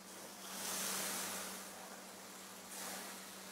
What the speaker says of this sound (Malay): baru kita letak kita punya air